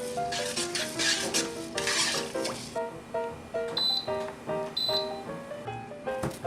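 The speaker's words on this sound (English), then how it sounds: "Give that a little stir" A spoon stirs oil and salt in a pot, giving repeated scraping and light clinking strokes at a steady pace, heard close beneath continuous background music.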